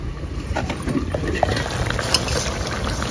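Eggplant and koi fish curry simmers in a pan, a steady soft bubbling and crackling with a few small pops, close and alone with no voices.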